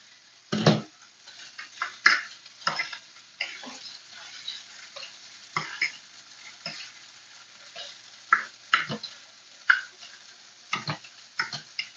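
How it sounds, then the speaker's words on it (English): Shrimp sautéing in a pan, with a steady soft sizzle beneath repeated close scrapes and clicks of a utensil against the pan, spread irregularly across the whole stretch with no talking. "All I'm doing right now is sauteing these shrimp"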